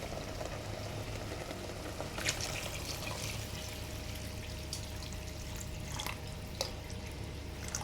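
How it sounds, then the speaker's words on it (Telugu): Water pours steadily into a cooking pot of palak quinoa khichdi, a faint, even rushing stream with a few soft splashes. "ఇప్పుడు మనం దీంట్లో వాటర్ అనేది వేసేసుకుందాం."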